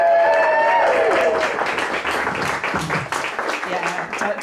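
Comedy club audience at the St. Johns Comedy Club clapping and cheering loudly for a comedian taking the stage, continuous dense applause with a voice heard over it.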